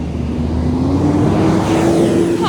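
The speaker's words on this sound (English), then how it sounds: "Pause for the big bus." A big bus passes close by on a street, a loud, steady engine roar with a slowly rising tone that fills the whole moment without any talk.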